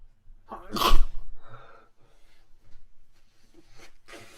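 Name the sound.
sneeze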